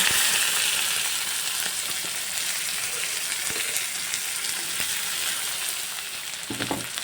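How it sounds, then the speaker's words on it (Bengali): A bay leaf, whole cumin seeds and chopped onion fry in hot oil with a steady, close sizzling hiss. Faint stirring scrapes come near the end, and no voices are heard. "একটা তেজপাতা ফোড়নে দিয়ে দিলাম আর কয়েকটা গোটা জিরে ফোড়ন দিয়ে দেব একটা পেঁয়াজ কুচি"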